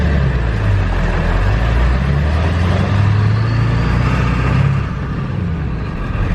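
A car engine runs steadily just after a clutch overhaul, a loud close mid-range rumble with a low hum that swells slightly around the middle and eases off near the end.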